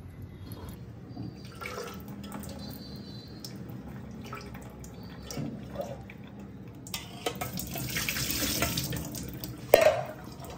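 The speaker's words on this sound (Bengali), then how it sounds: "এবার জলটা ঝরতে থাকুক" Water drains from soaked chowmein noodles in a strainer, a soft steady trickle with scattered drips that grows into a louder splashing run toward the end.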